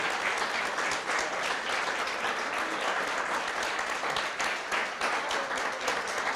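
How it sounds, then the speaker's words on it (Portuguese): Church congregation applauding at the close of a sermon, steady dense clapping filling the room throughout, close and sustained with no break. "Aplauda o Senhor."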